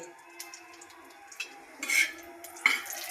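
Onion, garlic, ginger and spices roast in a pan with quiet scraping and stirring, and two louder clanks of a utensil against the pan.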